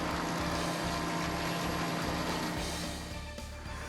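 Steady, loud droning rotor and engine noise fills a helicopter cabin in flight over a sunny Crimean coast, continuous throughout with no voices.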